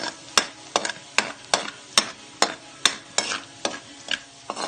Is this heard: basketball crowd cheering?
no